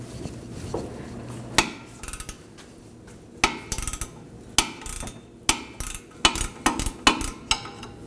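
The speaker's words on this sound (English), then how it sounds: "break it free using a 19mm wrench" A 19mm wrench works a rusty ball joint nut free on a Toyota Corolla, giving sharp metallic clanks and scrapes close by, irregular and growing busier toward the end, with no talking.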